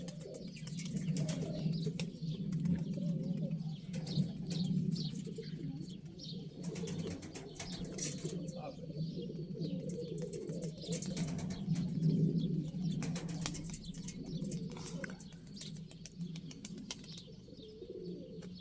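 Bomba pigeons coo in a low, steady, continuous murmur, close by and fairly loud, with occasional wing flutters and faint chirps mixed in.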